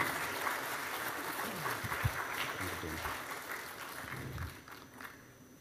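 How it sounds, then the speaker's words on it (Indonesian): A crowd applauds at an indoor anniversary reception of Nahdlatul Ulama, with a broad wash of clapping that fades toward the end amid some voices. "Berikan tepuk tangan yang meriah sekali lagi."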